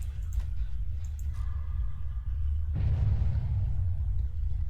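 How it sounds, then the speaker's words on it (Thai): A deep explosion goes off in a Dead by Daylight match during a tournament game, a sudden loud broadband burst after low rumbling that keeps roaring as a sustained blast for the last couple of seconds, with no talk. "มีระเบิดครับ มีเสียงระเบิดครับ"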